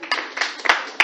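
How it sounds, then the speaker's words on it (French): An audience at an international women's rights conference claps briefly, a few sharp, close hand claps in quick succession, with no talking over them. "On applaudit."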